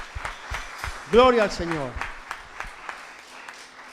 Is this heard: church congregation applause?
yes